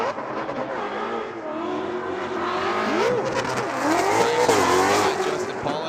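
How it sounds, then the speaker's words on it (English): A Roush Performance Ford Mustang race car on Falcon Tires at Monroe, Washington, engine roaring steadily with rising and falling revs and tire squeal, loud and continuous with crowd-scale echo. "The exhaust note just echoing through Monroe, Washington."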